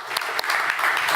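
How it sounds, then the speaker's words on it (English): Audience applause for a presenter at a government conference session, a short burst of crowd clapping with a few sharper individual claps standing out at the start. "a big round of applause for Robert"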